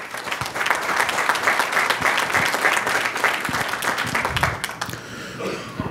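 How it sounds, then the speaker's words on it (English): A city council meeting audience gives steady, sustained applause for a few seconds, dense and fairly close, fading out near the end. "applause for PRHA"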